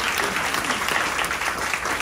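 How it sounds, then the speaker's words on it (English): Brief, full applause from a town hall audience for panelists after a discussion on gun violence prevention, many hands clapping in a dense, steady burst. "Round of applause for our panelists."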